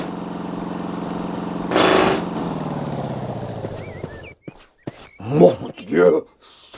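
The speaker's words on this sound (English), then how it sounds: "It was the compressor that powered the pneumatic drill." Pneumatic drill and its compressor in the Broken Sword: The Sleeping Dragon video game, a steady mechanical drone with a short louder burst, cut off before a voice speaks.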